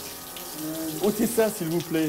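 Shower water runs steadily in a psychiatric hospital bathroom as a patient is helped to wash, the spray continuing under a voice speaking French.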